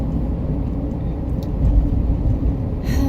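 A car driving along a road, a steady low rumble of engine and road noise with slight swells, heard from inside without talk.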